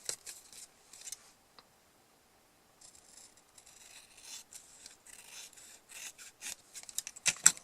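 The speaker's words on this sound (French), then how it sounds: "je vais découper déjà l'excédent. Donc, je viens couper tout ce qui dépasse." Scissors snip away excess card paper during a sliding-card craft project, giving a series of soft, close, crisp cuts in short irregular bursts with pauses between them, quiet and with no voices.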